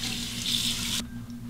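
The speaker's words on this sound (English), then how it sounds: "Now I'll rinse the bowl out and we'll start from scratch with the synthetic T2 brush." Tap water running into a shaving bowl as it is rinsed out, a steady close hiss of flowing water that stops abruptly about a second in, leaving quiet room tone.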